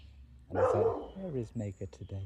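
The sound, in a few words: dogs barking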